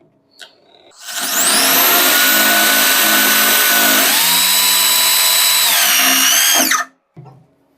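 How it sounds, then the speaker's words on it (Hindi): Impact drill driving a self-drilling screw, one continuous loud run of about six seconds with a whining motor pitch that steps down partway as the screw bites, then stops abruptly; no talking. "चलिए, तो सबसे पहले मैं यहां पे लगाता हूं सेल्फ ड्रिलिंग स्क्रू और अब हम यहां पे इसमें ड्रिल करते हैं।"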